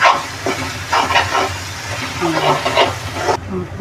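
Onion softened in a pan sizzling as turmeric and masala are added for a spicy keema, with soft stirring scrapes and a person talking throughout.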